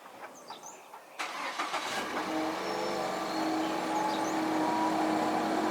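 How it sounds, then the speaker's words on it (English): A Ford Fusion car engine starts with a sharp crank and then settles into a steady, fairly quiet idle heard close by, alone without talk. "Now with the car running"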